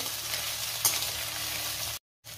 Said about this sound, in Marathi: आता तेलामध्ये मी सोया चंक्स छान लाल होईपर्यंत परतून घेणार आहे।